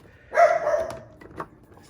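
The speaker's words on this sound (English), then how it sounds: "I apologize for my barking dog." A dog barks indoors, one sustained bark followed by a shorter, quieter one a moment later, both fairly close, with no talking.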